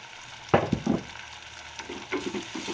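Onions frying in a pan with salt and turmeric for buttermilk saaru, with a steady soft sizzle broken by a few close clatters of stirring, alone with no voices.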